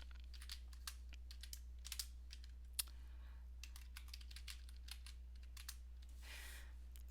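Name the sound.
computer keyboard typing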